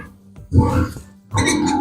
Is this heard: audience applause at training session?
no